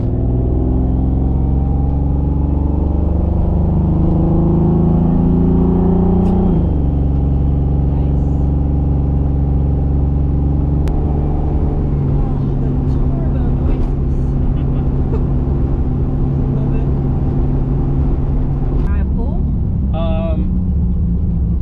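A Toyota Supra MK4 engine with a TH400 automatic transmission roars loudly under full throttle and climbs in pitch, drops briefly as it shifts, then keeps revving hard and steadily.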